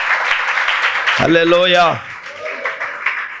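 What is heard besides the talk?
congregation clapping loudly in church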